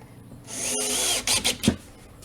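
A power drill drives screws into a drywall patch fastened to wall framing, giving a brief whirring burst followed by a few short, sharp spurts of the motor as the screws seat tight, close by.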